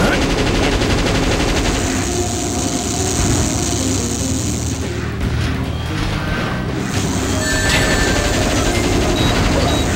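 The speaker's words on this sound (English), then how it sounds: "That's a gun combat vehicle. Use its powerful weapons to blast the enemy." Heavy gunfire from a gun combat vehicle in Shadow the Hedgehog, a dense rattling barrage with booms that runs loud and steady through the whole stretch over a busy game soundscape.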